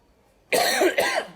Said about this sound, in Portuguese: Perdão, eu tô tossindo um pouco.